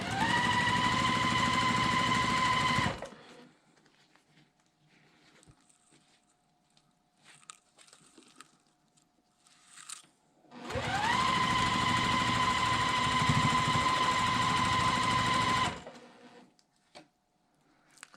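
A sewing machine stitches quilt block pieces together in two sustained runs of rapid, even mechanical whirring, separated by a quiet pause filled with faint handling noises.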